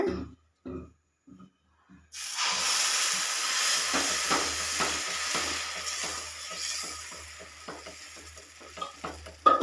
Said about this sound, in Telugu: స్టవ్ వెలిగించి పెనం పెట్టుకున్నాను. చూడండి వేస్తున్నాను దోశ.